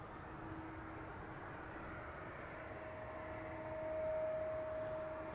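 KLM Airbus A330-200 taxiing toward the runway at Edmonton International Airport, a steady distant engine roar with a faint rising whine.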